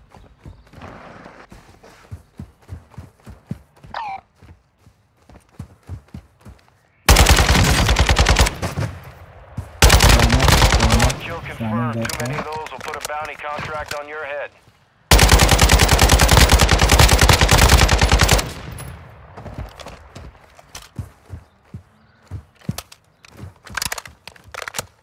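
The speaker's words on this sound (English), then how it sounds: "But, I'm getting shot at now." Gunfire in the Call of Duty DMZ game comes in long, loud bursts of rapid automatic fire separated by quieter stretches of single shots and clatter, with no speech.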